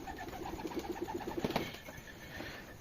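Pigeons cooing close by in a short run of soft, rhythmic, throaty coos, with a faint flutter near the end and no voices.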